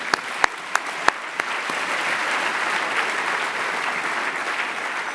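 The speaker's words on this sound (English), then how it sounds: "they too deserve a round of applause" An audience applauds steadily for several seconds, a dense wash of many hands with a few louder, sharp individual claps standing out near the start.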